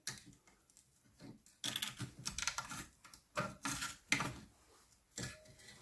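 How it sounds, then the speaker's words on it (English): A screwdriver prises a rusty circlip off a Classic Mini rear drum brake cylinder, making sharp metallic clicks, scrapes and taps in irregular bursts at close range, with no talk. "I'm just going to prise that off with a screwdriver"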